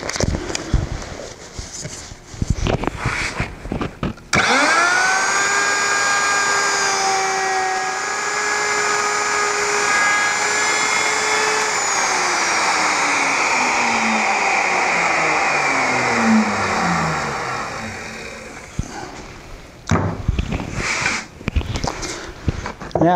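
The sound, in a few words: router with 3/8 inch radius round-over bit shaping wood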